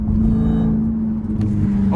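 A 707hp Jeep Trackhawk driving through city traffic, its supercharger whine a steady high tone over a low engine drone, heard from inside the cabin at a constant pace.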